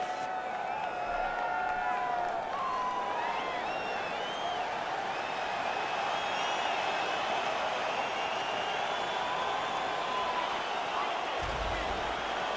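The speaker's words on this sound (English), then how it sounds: "Crowd fired up, so are we." A packed arena crowd roars and cheers steadily at a UFC fight between Khabib Nurmagomedov and Conor McGregor before the third round, a loud, continuous wall of noise with whistles and shouts rising above it.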